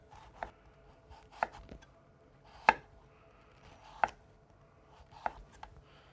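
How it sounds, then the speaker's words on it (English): A knife slices a carrot into thin julienne strips on a cutting board, making six crisp, evenly spaced chops about a second apart. The chops are close and fairly quiet, with no talk. "We just slice the carrot"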